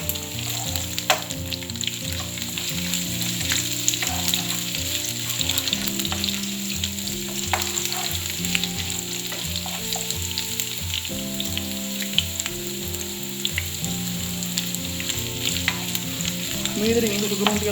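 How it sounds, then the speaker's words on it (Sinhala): Ginger and garlic fry in a pan for a Sri Lankan chicken liver and potato curry, giving a steady close sizzle with frequent stirring scrapes and clinks throughout and no talking. "මේ විදිහට ඉඟුරු සුදු ලුණු ටික පොඩ්ඩක් ෆ්‍රයි කරගත්තා"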